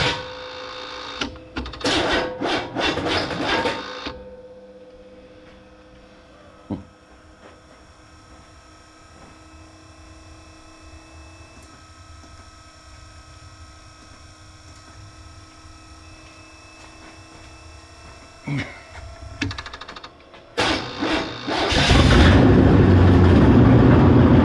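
A carbureted engine on a 2-barrel carburetor with the choke off idles in a steady, even drone, framed by louder bursts of revving and clatter at the start and near the end.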